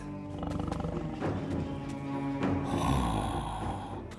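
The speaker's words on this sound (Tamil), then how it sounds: "பாவம் அந்த யானைக்குட்டி உதவி கேட்டு கத்துது" Baby elephant calling out in distress in a cartoon jungle tale, a long, loud, groaning cry over a continuous rumbling background with tonal music-like layers.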